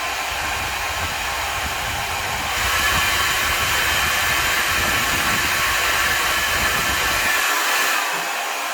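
A compact Ion LUXE ceramic hair dryer runs steadily on its second speed, a loud, even whoosh of air that swells slightly after a few seconds and then cuts off near the end.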